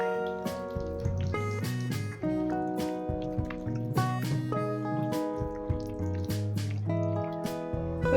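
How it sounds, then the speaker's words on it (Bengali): Wet squishing and dripping as raw chicken is worked by hand with a coriander and mint paste marinade for hariyali kebab, soft close-up squelches in an uneven rhythm. "এবার সবকিছু চিকেনের সাথে ভালো করে মেখে নেব।"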